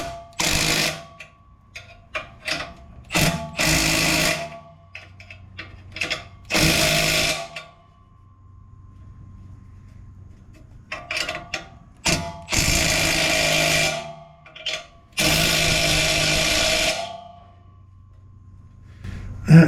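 A ratchet wrench tightens exhaust clamp bolts on a dual exhaust system, with repeated bursts of rapid clicking, some quick and others sustained for a couple of seconds, separated by pauses.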